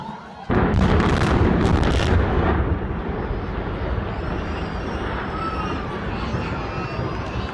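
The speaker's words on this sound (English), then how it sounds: "a demolition was planned to bring down 6 of these towers with a controlled explosion" A controlled demolition explosion brings down a set of towers. A sudden, powerful blast bursts out after a brief quiet, then fades into a long, heavy rumble of collapsing debris.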